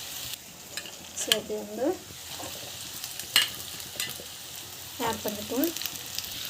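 Ingredients sautéing and being stirred in a hot pan, a steady low sizzle with scraping stir strokes in two bursts, under someone talking in Tamil.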